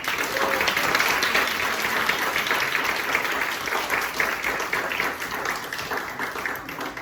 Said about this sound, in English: Let's give our artists another round of applause.